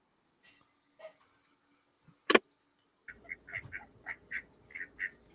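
Ducks quacking on a played-back video, a run of short nasal quacks in quick uneven rhythm after a few scattered knocks and a sharp clack, moderately close over faint background hiss.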